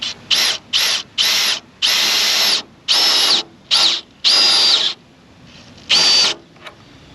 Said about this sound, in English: Put in the drill, sit in here.